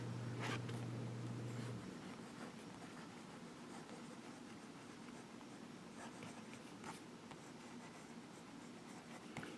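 A Monteverde Aldo Domani fountain pen with a fine nib scratches softly across paper, a faint continuous writing sound with a few slightly sharper strokes and no speech.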